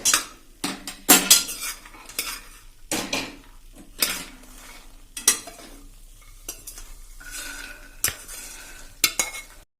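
Roasted makhana and melon seeds being scraped out of a ghee-coated pan onto a plate, loud metal spoon scrapes and clanks arriving in bursts over a soft residual sizzle, with no talking.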